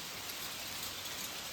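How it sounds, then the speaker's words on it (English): Hail falls in an area where it rarely occurs, with some fairly large stones, a continuous dense hiss of impacts that stays even and moderately loud throughout, with no voices. "this is not something we get a lot of is hail around here"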